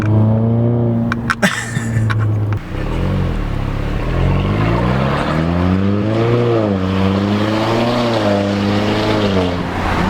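A tuned Audi A5 2.0 turbo with a modified exhaust drones loudly and steadily from inside the car, its engine note sliding up and down as the revs rise and fall.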